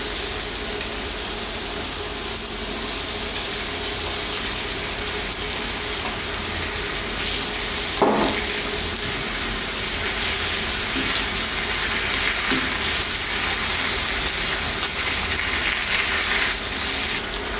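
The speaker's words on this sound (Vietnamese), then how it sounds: "Sau đó các bạn cho phần lá vào để mình xào cùng luôn" Choy sum leaves stir-fried with garlic in a hot pan give a loud, continuous sizzle and crackle, with a brief clatter of stirring partway through.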